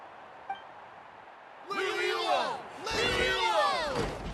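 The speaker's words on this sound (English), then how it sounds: "Hear that? The exhilarating cheers of the crowd." Crowd cheering in the Genshin Impact video game: after a quiet opening, a loud, sustained wash of excited voices rises and keeps going in two swelling bursts.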